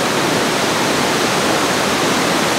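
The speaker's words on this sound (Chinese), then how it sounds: "哎，这瀑布超级急的" A fast, violently rushing wide waterfall on a river in Southeast Asia roars as a steady, dense, loud wash of water, constant and close with no talk.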